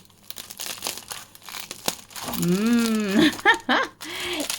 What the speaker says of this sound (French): Nos bonnes petites baguettes. Oula, bien croustillantes.